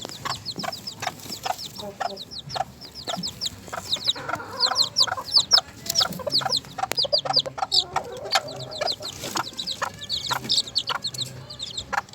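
A hen clucks steadily while many two-week-old Sebright chicks peep in quick, high chirps all around, close by and continuous throughout.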